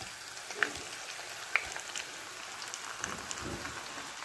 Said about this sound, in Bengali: মশলাটার সঙ্গে চিকেনটা সুন্দর করে কষাই দিতেছি